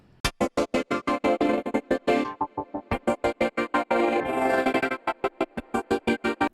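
A thick, layered synth, partly from an Emulator II, chopped into fast rhythmic stabs, pulsing steadily with occasional held, smoother passages, loud and bright.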